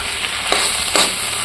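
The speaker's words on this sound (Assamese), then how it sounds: "কম জুইত ভাজিয়ে আছোঁ।" Mixed vegetables frying over low heat in a pan, a continuous soft sizzle broken by two short stirring scrapes, close and without voices.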